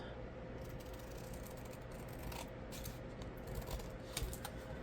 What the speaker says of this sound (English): I love these Tim Holtz scissors. They cut so good.